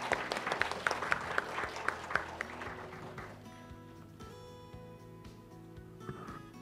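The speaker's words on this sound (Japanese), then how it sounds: "皆様拍手でお迎えください。" Audience applause welcoming a speaker at a lung cancer seminar, a few seconds of brisk clapping with sharp hits that fades into quiet background music.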